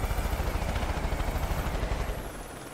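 Helicopter in the video game Fortnite, a steady loud low rotor thump with dense broadband engine roar running throughout, fading slightly near the end.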